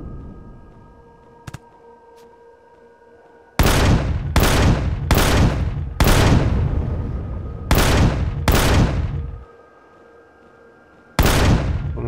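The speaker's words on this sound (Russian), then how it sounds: "Это реально походу мех стреляет." A mech in a video game fires heavy weapon bursts in several loud, sharp volleys, each starting abruptly and cutting off, separated by short pauses of quieter background hum.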